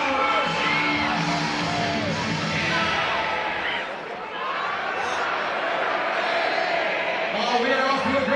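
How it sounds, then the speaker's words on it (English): A baseball crowd at a Savannah Bananas Banana Ball game in Savannah, Georgia, sings and cheers together in a sustained, loud, distant roar of massed voices, with a commentator talking over it. "let's listen into the crowd sing off, my friends"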